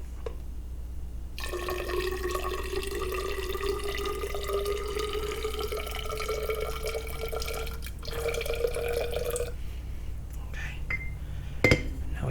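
Liquid plastic cement pours in a thin, steady stream into a measuring bottle at a workbench, with a rising gurgling tone as the bottle fills, then a pause and a few faint drips.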